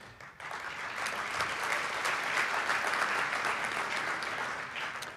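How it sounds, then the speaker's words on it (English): Sustained audience applause fills a university forum hall at Columbia, a dense steady wash of clapping that swells quickly and holds loud before easing slightly at the end. "Please, go ahead and clap."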